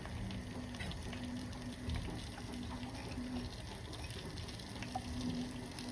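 Semolina is stirred as it dry-roasts in a pan for irmik helvası, giving soft scraping and a faint, fine sizzle under a steady background hum, quiet and continuous.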